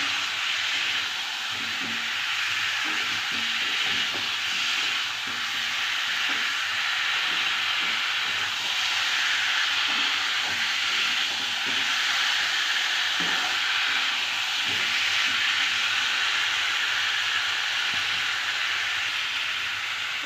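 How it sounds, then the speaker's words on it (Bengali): Potatoes frying with spices in a Bengali village kitchen, giving a continuous even hiss of sizzling oil with a few faint clicks from stirring, steady throughout and with no talking. "এবার আলুটা মশলার সাথে খুব ভালো করে কষে নেব"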